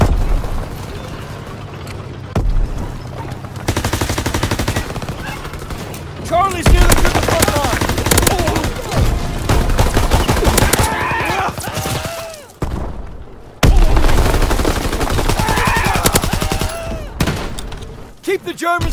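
Heavy World War II battlefield gunfire in Call of Duty WW2, repeated bursts of automatic fire and booming shots in loud clustered volleys with brief lulls, with shouting voices in between.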